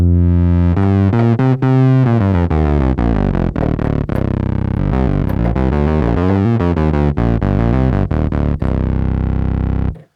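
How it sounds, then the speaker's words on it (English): A synth bass runs through a distortion effect, playing a steady sequence of gritty, buzzing notes with rich harmonics for about ten seconds, loud and alone, with no voices. "Just adding that distortion really changes the sound and makes it more lively"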